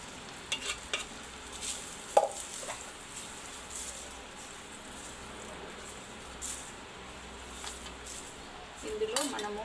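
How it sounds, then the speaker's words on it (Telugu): Tamarind mixture being stirred into cooked rice, soft scraping and mixing with occasional clinks of a spoon against a pot, close and fairly quiet, with a brief voice in the background. "దీన్ని అన్నంలో కలుపుకోవాలి"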